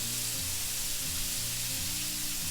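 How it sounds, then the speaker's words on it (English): Ribeye steak meat for Philly cheesesteaks sizzles steadily on a flat top griddle as it is stirred, a dense continuous frying hiss up close with no talk. "let's go ahead and get the meat a stir"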